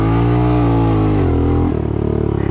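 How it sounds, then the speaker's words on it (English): A Honda CT125 motorcycle revs hard in neutral, its engine holding a loud, steady drone close by before the pitch dips and settles into a rougher, pulsing idle-like rumble. "Put your bike in neutral, push down on the lever, and you can rev it up all you want then"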